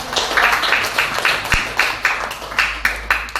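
A small group at an Indonesian teacher-training session claps in a steady burst of quick, sharp hand claps that keeps an even rhythm for a few seconds, fairly close and with no talking over it.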